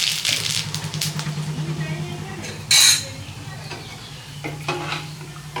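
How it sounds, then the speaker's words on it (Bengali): Dried red chillies and mustard seeds sizzle and crackle in hot oil in a pan, a steady fry with a brief louder burst as they go in, joined by utensil clinks and a humming tone beneath. "তেল হিট হয়ে গেছে, শুকনো লঙ্কা দিয়ে দিচ্ছি। এখন দিয়ে দিচ্ছি সর্ষে"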